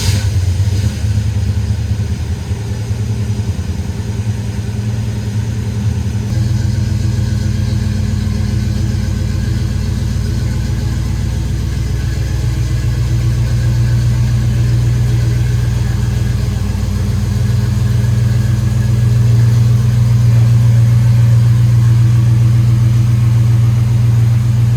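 A car engine idles steadily as it warms up, a close, loud, low rumble that shifts slightly in pitch a few times without revving hard.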